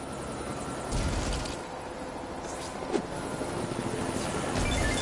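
A helicopter flying in a PS4 video game gives a dense, steady rotor and engine roar that swells and fades slightly across several seconds, with no talk over it.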